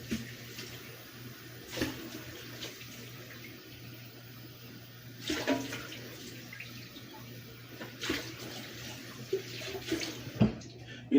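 Tap water runs steadily at low level while something is rinsed off during pork preparation for barbecue pulled pork, with a few louder splashes and clatters over the constant flow.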